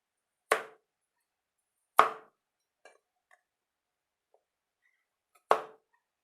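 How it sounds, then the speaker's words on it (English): A knife cuts taro into big chunks for a Sumi Naga pork curry, making three sharp, close chops on a board spaced far apart, with a few faint small clicks between them in otherwise quiet surroundings. "Now let's chop the taro."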